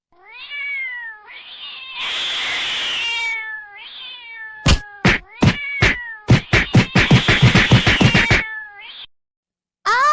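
A cat meows loudly again and again: drawn-out wails, then a rapid string of sharp, yowling cries, close and insistent.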